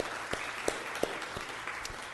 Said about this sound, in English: let's give them a round of applause, first of all, to thank them for volunteering for this.